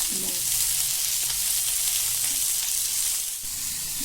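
Thin strips of potol (pointed gourd) and potato fry in oil in a pan, a steady close hiss of sizzling that continues evenly throughout with a brief dip near the end.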